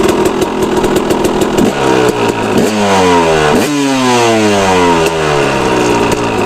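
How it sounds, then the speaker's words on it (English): A KTM 250 SX two-stroke dirt bike with carburetor jetting work starts and revs hard, its loud, close engine sweeping up and down through several sharp throttle blips before settling, with no talking. "So I'm gonna start it. It should start first kick, no gas."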